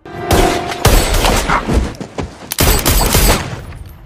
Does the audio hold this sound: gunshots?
yes